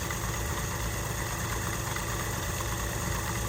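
Belt pulley spinning at almost 5,000 RPM, a steady, dense mechanical whir and hum that holds constant throughout without change, close and fairly loud with no talking.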